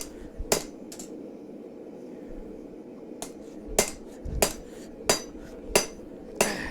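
Hammer blows on metal during a late-night forging session, sharp ringing strikes landing irregularly at first and then in a steadier rhythm of about one per second, close by over a low background hum.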